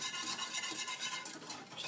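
Yogurt mixture is whisked in a pot for Gujarati kadhi, a steady brisk scraping and swishing of the whisk against the metal, close and fairly quiet, with no talking.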